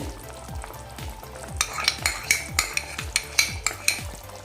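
A spoon stirs cream and curd into sizzling chicken changezi in a pan. Steady, rhythmic scraping strokes land about three times a second over a constant frying hiss, close and fairly loud, with no voices.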